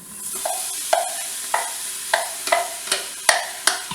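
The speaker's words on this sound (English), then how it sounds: "you can hear that sizzling. I have olive oil in here" Onions sizzling in hot olive oil with steady crackle and repeated sharp scraping stirs, about seven strokes, close and fairly loud; no talking.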